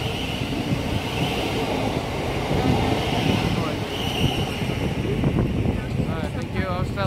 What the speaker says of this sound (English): Look at that big train.